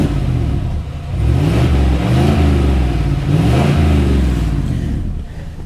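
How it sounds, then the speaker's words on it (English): A 2020 Chevy Silverado Black Widow pickup's engine revs hard through its exhaust, a deep throaty roar swelling in two long surges before settling back to idle. "I'll rev it up for you real quick."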